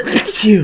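A single sharp sneeze from a person at a tabletop Dungeons & Dragons session, close and loud, followed by a voiced exhale.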